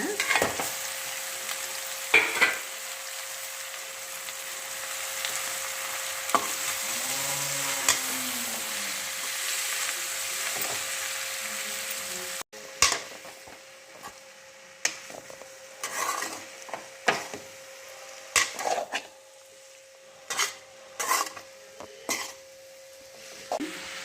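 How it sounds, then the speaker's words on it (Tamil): Wheat noodles stir-fried with softened onion and capsicum in a pan: a steady sizzle first, then intermittent scraping and clattering of a utensil against the pan as the noodles are tossed. "வெங்காயம் குடமிளகா நல்லா வதங்கிடுச்சுங்க நம்ம வந்து இந்த நூடுல்ஸ் ரெடி பண்ணியிருக்கோம் இல்லைங்களா அதை இதில் போட்டுடலாங்க"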